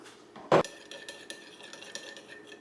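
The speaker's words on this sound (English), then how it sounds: "now we're going to combine 3 tablespoons of our barbecue sauce" A single sharp clatter of a utensil against a dish, followed by soft, quiet scraping as barbecue sauce is stirred with water close by.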